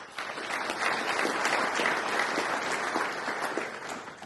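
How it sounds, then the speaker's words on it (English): An audience at a rural water services awards event applauds group water scheme recipients with steady, even clapping from a sizeable crowd, continuous and unbroken from start to finish. "Again, a round of applause for both of those."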